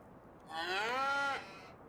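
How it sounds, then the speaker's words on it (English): A single drawn-out cow moo from a farming simulator game, rising and falling with a clear pitch over about a second, fairly close against a faint background. "we had those kind of cows that freeze up when they get spooked"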